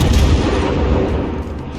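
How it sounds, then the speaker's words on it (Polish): Artillery shell fire in a naval video game, heavy gunfire booms battering a cruiser, a dense rumbling barrage that stays loud throughout. "dodatkowa artyleria już tego kurfursta obija nasz krążownik"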